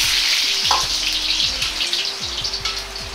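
Chikuwa fish-cake pieces deep-frying in hot oil over high heat give a steady, loud sizzle with dense crackling throughout, broken by a few low bubbling pops and ladle movements.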